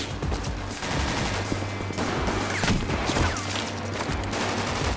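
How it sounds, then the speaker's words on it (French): Gunfire from a film scene, with an agent shooting blindly. Bursts of shots crack over a dense, busy soundtrack and keep going steadily throughout, with no speech. "On a carrément un agent qui tire à l'aveugle lui aussi."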